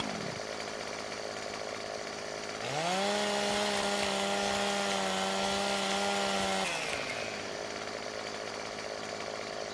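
A chainsaw in Farming Simulator 17 revs up to a loud, steady whine for a few seconds as it trims a tree, then drops back to idle over a constant background hum.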